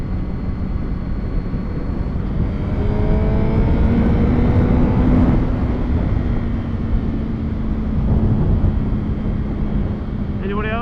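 A sensitive throttle brings an engine revving up and down, the rising and falling drone carrying over steady wind and road noise for about ten seconds.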